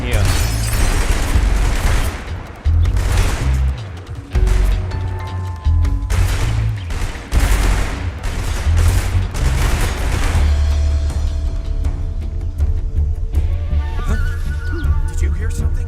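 Enemy soldiers open fire in Metal Gear Solid Delta on PS5, loud sustained bursts of gunfire and booming shots that fill the whole stretch with dense overlapping reports.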